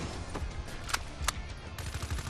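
Submachine gun fire in the multiplayer video game Call of Duty Black Ops 3; a short rattling burst with a couple of sharper shot peaks over dense game background noise.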